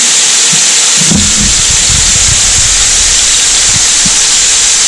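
Fresh-caught perch frying in hot oil in a pan, a loud, dense, steady sizzling hiss that fills the whole stretch, with low crackles and a bump as the fish settles early on.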